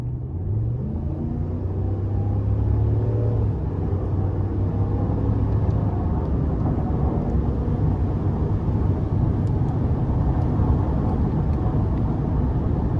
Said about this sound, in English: I'm gonna give it some throttle here.